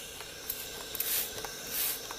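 A Panasonic NI-E650TR SteamDry iron with a U-shaped titanium soleplate spits water from its squirt button in two short, airy sprays, close by and fairly quiet, with a few small clicks between them.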